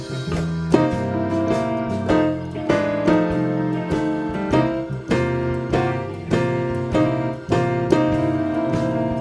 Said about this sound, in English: you're gonna learn how to take these blues chords and make them sound like this